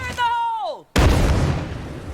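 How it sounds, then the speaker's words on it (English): A napalm grenade launcher fires in State of Decay 2, a single sudden heavy boom after a falling, groaning tone, followed by a rushing, crackling tail that fades slowly. "So basically, it shoots napalm grenades, not explosive grenades."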